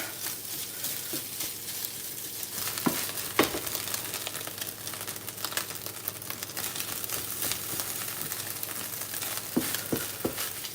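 Egg and shrimp fried rice stirred in a hot pan, with a steady sizzle throughout and occasional sharp clicks and scrapes of the utensil against the pan.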